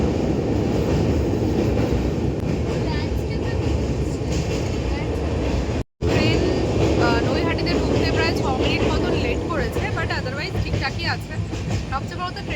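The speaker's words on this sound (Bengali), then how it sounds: "তো আমরা এখন রয়েছি ট্রেনে আর ট্রেন অলরেডি ছেড়ে দিয়েছে" A moving passenger train rumbles steadily from inside a carriage, loud continuous low roar and rattle with a brief cut midway, while chatter and voices carry faintly through the din.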